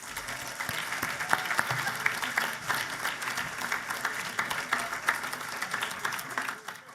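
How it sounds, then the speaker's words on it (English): A gala audience at GOSO Gala 2021 applauds steadily to welcome a speaker, a dense, sustained wash of many hands clapping that holds at full strength for about seven seconds before easing slightly at the end. "So please, a round of applause right now"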